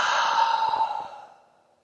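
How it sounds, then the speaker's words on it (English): One long, deep breath during a floor exercise routine, a close airy exhale that fades away over about a second and a half, with no speech. "Nice big breath."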